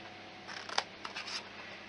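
Scissors snip through paper card for an Easter egg box, a few short crisp cuts close by, quiet otherwise.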